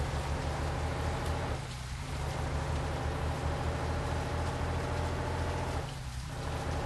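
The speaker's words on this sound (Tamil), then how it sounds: "அம்மா மழை சூப்பரா இருக்கு." Heavy rain falls steadily in the Bus Simulator India video game as a bus drives a highway, a constant hiss over a low engine drone, with two brief softer dips.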